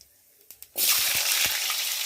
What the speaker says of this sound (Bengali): প্রথমে আমি একটু জিরে ফোড়ন দিয়ে দিচ্ছি, তারপরে দিয়ে দিচ্ছি আলুটা